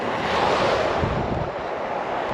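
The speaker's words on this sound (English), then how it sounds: "Oh, the wind's picking up." Wind gusts hard across a beach microphone at Talacre, a loud, close, steady rushing roar with no voices.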